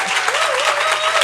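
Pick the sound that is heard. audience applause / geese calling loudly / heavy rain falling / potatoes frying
audience applause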